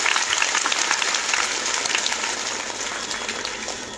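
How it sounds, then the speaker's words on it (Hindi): Loud crowd applause at an outdoor political padyatra rally for a party leader, dense continuous clapping from a large gathering, close and sustained with no break. "एक बार, बस एक बार हमारी बहुजन मीडिया के लिए जोरदार तालियां हो जाए"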